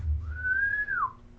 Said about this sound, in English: It sounds to be like a human whistle or like a humanoid whistle.